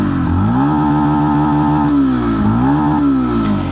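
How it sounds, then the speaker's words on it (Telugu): Exhaust note of a 2025 Yamaha FZ Rave motorcycle, heard up close and loud as a smooth engine hum rising and falling through two short throttle blips. "ఒకసారి ఎగ్జాస్ట్ సౌండ్ వినండి."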